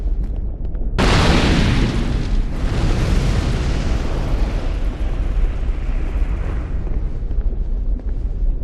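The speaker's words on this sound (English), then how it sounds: "after an explosion that I didn't see coming" A sudden loud blast in Dark Souls 2 bursts in after a second of quiet, then rolls on as a heavy, sustained roaring rumble that slowly thins out over several seconds.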